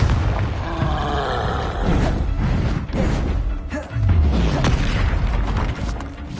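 Confringo, an explosive fire spell in the Hogwarts Legacy video game, goes off in repeated heavy booming blasts and crashes, loud and close, amid the noise of a game battle.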